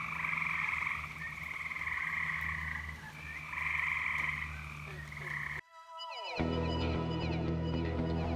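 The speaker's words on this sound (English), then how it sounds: "That's all my froggies and toads and amphibians down at the fish pond." A loud, dense chorus of frogs and toads croaking steadily at a fish pond at night, layered trills and calls overlapping, followed by a sudden shift to a different croaking texture.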